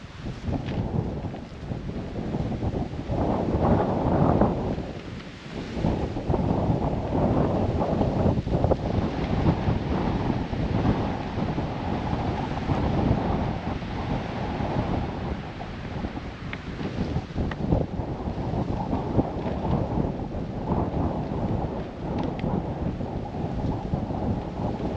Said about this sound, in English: going in. It is windy.